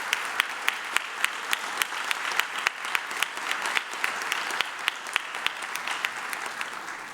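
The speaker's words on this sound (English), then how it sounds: "please give them a round of applause" An audience at a high school National Honor Society induction ceremony applauds Medal of Honor nominees, a steady sustained round of clapping with sharp individual claps standing out, fairly close and continuous throughout.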